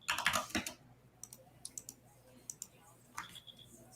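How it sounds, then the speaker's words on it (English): Fingers tap on a computer keyboard at a trading desk, a fast close burst of clicks followed by sparser scattered keystrokes, fairly quiet. "I'm just typing it."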